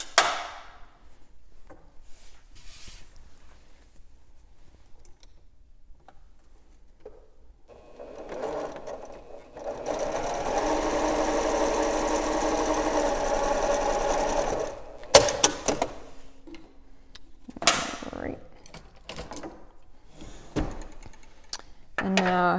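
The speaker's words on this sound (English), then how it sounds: "I'm going to sew from that end to that end." A sewing machine stitches quilt binding in one sustained, even whirring run, framed before and after by quiet handling noises and a few sharp taps and clicks nearby.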